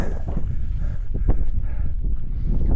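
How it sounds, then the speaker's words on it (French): Wind gusts roar steadily across a mountain top in the Drôme valley, producing a loud, continuous buffeting rush against the microphone with no voices. "Très mauvaise idée parce qu'il y a du vent."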